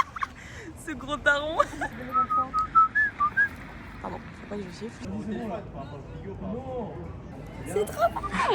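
A person whistles a quick run of high notes over lively chatter in Budapest, with voices talking around and between the whistled phrases.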